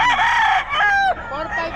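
A rooster at a busy poultry market in Bocaue crows loudly and close, one long, strained call followed by a shorter trailing one, with voices briefly in the background.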